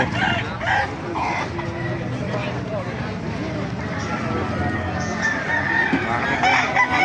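Roosters crow and hens cluck amid a busy, noisy crowd, with people talking throughout at an open-air chicken market in Baliuag, Bulacan.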